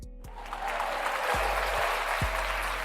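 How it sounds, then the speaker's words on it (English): A round of applause swells up after a brief quiet start and holds steady, with a few low thumps and a faint hum running beneath the clapping. "to give you a round of applause because I'm being corny today"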